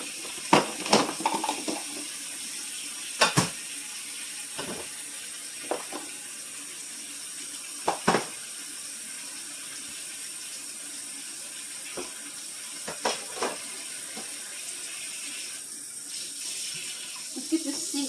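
Tap water runs steadily into a sink with a soft hiss, broken by scattered clinks and knocks of things being handled.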